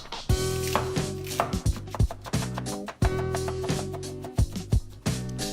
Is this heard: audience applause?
no